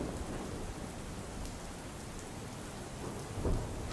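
Heavy rain pours down over Godhra town in Panchmahal, Gujarat: a steady, dense hiss of downpour on waterlogged streets that continues throughout, with a brief low rumble swelling near the end.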